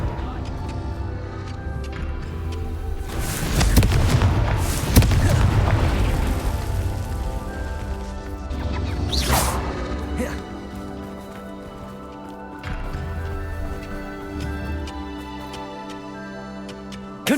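Blasting-curse explosions from the Hogwarts Legacy video game boom in repeated bursts, with the heaviest blasts clustered early and a sharp burst later, over continuous game music with a voice shouting spell names.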